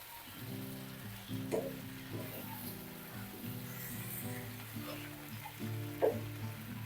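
Curry is stirred in a pan with soft bursts of scraping and gentle bubbling over a low hum, the stirring coming in uneven strokes with one sharper knock near the end.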